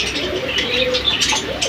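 A silver pigeon in a breeding pair coos near its eggs, a close, soft, rolling coo repeated in low throaty pulses.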